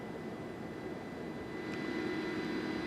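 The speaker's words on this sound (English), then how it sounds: "are you seeing anything more from the State Highway Patrol helicopter, Ed" A State Highway Patrol helicopter circles overhead during a search near Raleigh, a steady, distant rotor and engine drone that rises slightly in the last second, with no talk.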